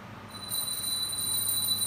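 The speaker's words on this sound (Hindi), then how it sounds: "घंटी बज गई छुट्टी होगी आप लोग" A bell rings with a sustained high metallic tone over faint room ambience, marking the end of a yoga session; no one speaks.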